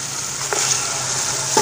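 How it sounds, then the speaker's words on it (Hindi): Chicken pieces frying in a pan with ginger, garlic and softened tomato, a steady close sizzle with a couple of faint scrapes or stirs. "तो इसको थोड़ा फ्राई करेंगे जब तक इसका जो है वो रंग बदल जाए"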